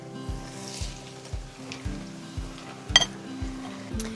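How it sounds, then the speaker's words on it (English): Breaded buffalo chicken bites fry in oil, a soft steady sizzle under a regular pattern of low rhythmic thumps about every half second, with a brief metallic clink near the middle. "As this one is finishing frying"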